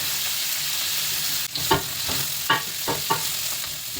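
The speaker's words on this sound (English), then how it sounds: "Saute until the onion turns soft." Onion with curry leaves and green chillies sautéing in a hot pan for tomato saar, a steady close sizzle broken by several sharp scraping stirs of a spoon.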